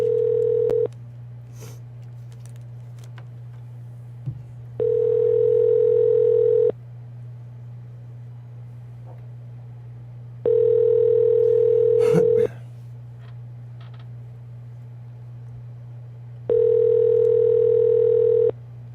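A telephone call rings out with a repeating ringing tone. Four steady beeps of about two seconds each come roughly six seconds apart over a constant low hum, with a faint click between them.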